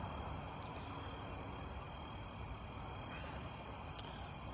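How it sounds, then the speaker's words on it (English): Crickets trill faintly and steadily at nightfall, a thin high-pitched drone that holds without a break under a soft wash of outdoor background noise. "You can probably hear the crickets."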